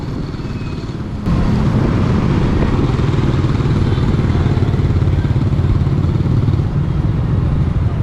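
A motorcycle engine rumbles up loud and close amid street traffic in Angeles, Philippines, holding a steady clattering drone.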